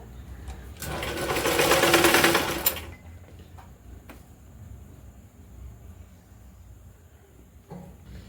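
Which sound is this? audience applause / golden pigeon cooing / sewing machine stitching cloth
sewing machine stitching cloth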